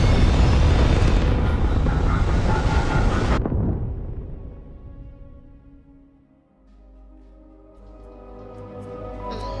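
Spaceship engines in the Starfield video game roar loud and broadband for about three seconds, then cut off sharply and fade into a low rumble and hum that slowly builds again.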